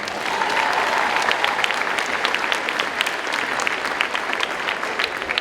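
Steady, loud crowd clapping fills a school gym during a 2019 high school pep rally, dense and sustained throughout with scattered sharper claps standing out.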